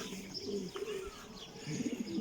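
A pigeon coos softly a few times, low throaty warbles with faint chirps nearby, quiet and slightly distant.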